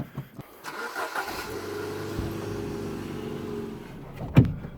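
A Ford Fiesta Mk6 engine cranks, catches and settles into a steady idle, up close, ending with a sharp knock or thump.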